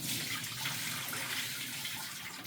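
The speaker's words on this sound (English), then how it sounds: "Throw out some of this water." Water being poured out while lime is rinsed for Jamaican-style curry fish, a steady close splashing flow that runs throughout.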